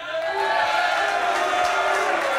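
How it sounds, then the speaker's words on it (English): A talk-show studio audience lets out a loud, sustained chorus of booing, many voices blending into one steady, droning jeer held through the whole moment. "Wait, why are people booing already?"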